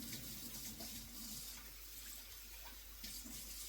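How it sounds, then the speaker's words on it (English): Water poured from a container into a bowl used for marinating oxtail meat, a steady splashing stream that runs continuously and fairly close, with no talking over it. "I'm just going to add some water to that."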